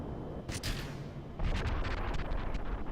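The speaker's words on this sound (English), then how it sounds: "Explosions are fine." Rocket explosions in Kerbal Space Program during a launch turn, a sharp burst followed by a louder sustained rumbling blast carrying crackling pops, heard alone without talk.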